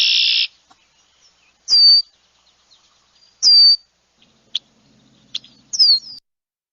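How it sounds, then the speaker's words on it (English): Red-winged blackbird calls ring out in a quiet marsh: a few sharp, loud whistled notes spaced about two seconds apart, with faint chips between them. "We have our red-winged blackbird that does the conqueree, conqueree, and that loud C sound."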